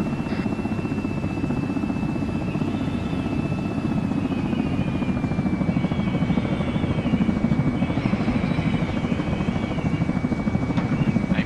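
A helicopter in a military video game drones steadily and close, its rotor chop constant throughout, with a faint high tone drifting above it.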